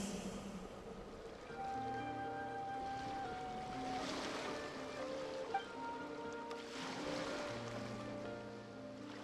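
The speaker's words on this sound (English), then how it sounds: "Go to where you can hear the sound of the waves." Gentle ocean waves wash steadily in a video game scene, soft and continuous beneath sustained melodic tones and ambient music, no voices.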